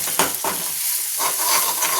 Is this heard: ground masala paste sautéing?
yes